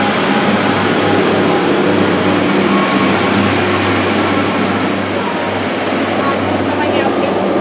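A Class 143 diesel train departing Dawlish on a service to Paignton, a steady loud engine drone and rumble that holds throughout with a low hum underneath.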